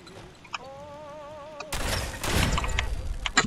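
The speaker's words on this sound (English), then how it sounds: "The explosion knocked him off his feet" An explosion in modded Fallout 4 goes off with a sudden loud broadband blast that rumbles and crackles for nearly two seconds, following a quiet passage with a faint warbling tone.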